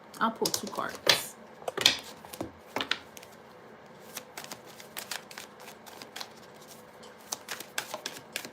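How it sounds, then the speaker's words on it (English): Tarot cards being shuffled and pulled from a deck, giving soft irregular riffling and slapping clicks, busiest at the start and then scattered and quieter. "I'll pull some cards for you guys. All right, let's see. I'll pull two cards."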